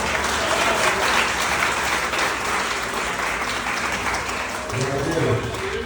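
Church congregation at a live deliverance service applauds in a sustained, even wash of clapping that fills the room for several seconds, with voices mixed underneath.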